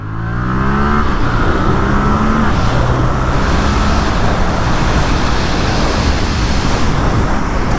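A Yamaha R7 motorcycle accelerates hard, its engine note rising in steady revving steps through the gears, loud and close with heavy wind rush over the whole run.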